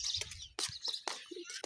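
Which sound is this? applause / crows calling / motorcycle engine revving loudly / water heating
crows calling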